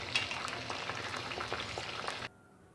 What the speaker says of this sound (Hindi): मिनट तक फ्राई करूँगी ताकि ये फ्राई हो जाए अच्छी तरह